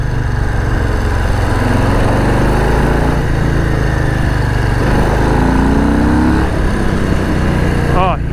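A 2021 Harley-Davidson Street Bob 114 engine pulling hard in second gear, a loud continuous roar with rising pitch and heavy wind buffeting throughout.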